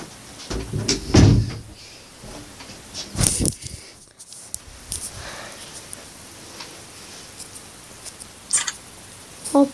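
A door is pulled shut indoors with a couple of sharp knocks and thuds over quiet room noise, followed by softer rustles and small clicks.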